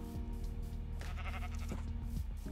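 Sheep in a survival video game give a couple of short bleats, moderately loud against a steady droning background of game music and ambience.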